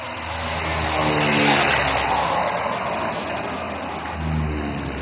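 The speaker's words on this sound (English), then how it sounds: "The pilot is aligning a massive transport aircraft." An AN-32 transport aircraft of the Indian Air Force at an air show, its engines producing a loud, steady droning roar that swells briefly and then holds at a constant level.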